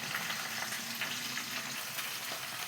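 Turmeric and dry chilli powder fry in hot oil for a sweet-sour jujube pickle, giving a steady close crackling sizzle throughout with no voices.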